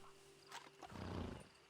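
A horse's whinny in the video game Red Dead Redemption 2 Online rises over a dull ambient rumble, brief and moderately close, followed by a low snorting roar.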